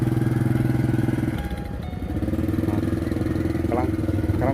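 A motorcycle ridden along a rural road, its engine a steady loud close chugging drone that dips briefly and picks back up, with faint background sounds over it.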